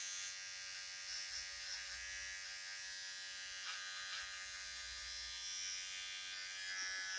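An electric trimmer buzzes steadily while trimming a moustache, a close, continuous high whir with slight shifts in tone as it moves over the lip hair.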